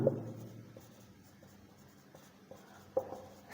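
Pen or pencil writing on paper while working out a class 10 maths equation, a soft continuous scratching with a few light taps and strokes, close and quiet, no speech.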